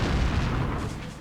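A German battleship fires its heavy naval guns, a deep booming rumble filling the short stretch and slowly fading, loud and without any voices.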